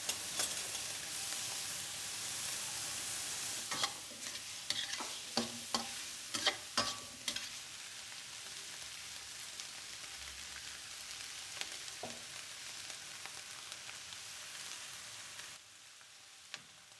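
Minced pork stir-fried in a wok in a home kitchen, a steady close hiss of frying with a run of scraping, clattering stirs in the middle, alone without talk.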